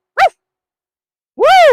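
A person imitates a tense, angry dog with two harsh, voiced barks: a short yelp, a pause, then a longer strained growl-bark, loud and close with no other sound.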